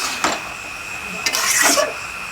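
Prawn and cabbage curry stir-fried in a pan until dry: a soft sizzle under a few loud scraping strokes of a spatula against the pan, close by and without talk.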